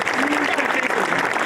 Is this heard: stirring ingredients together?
no